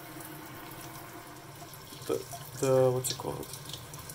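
Tap water rinsing hydroponic gear over a sink, a low steady flow with splashing that swells briefly near the end while a person talks over it.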